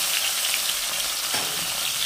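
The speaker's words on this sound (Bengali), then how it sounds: "দেখো এরকমভাবে কড়া করে ভাজা হবে" Snakehead (shol) fish head frying in hot oil in a pan, a steady dense sizzle throughout with a brief spatter burst midway, close and loud.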